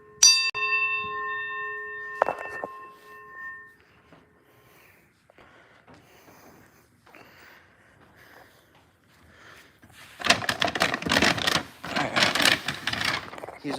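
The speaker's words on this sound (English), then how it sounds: "Here's an outboard bell box." An outboard fire alarm bell box rings in two loud, buzzy bursts near the end, after a brief ringing tone at the start and a quieter stretch.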